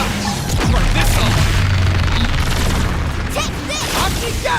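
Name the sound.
explosion in the video game Xenoblade Chronicles X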